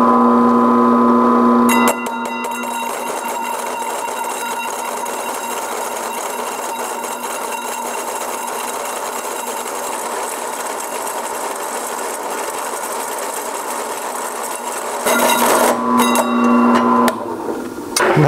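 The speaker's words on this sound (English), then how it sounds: "So I'm gonna use this hole saw to try to cut this thing out of here." A hole saw cutting a welded rim out of metal grinds loudly and continuously at close range with a steady ringing hum, louder bursts marking the start and end of the cut.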